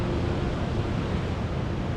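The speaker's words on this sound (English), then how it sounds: "It's so good to hear the ocean again." Ocean surf on Tasmania's south coast washes in a steady broadband roar, with wind buffeting the microphone and no voices.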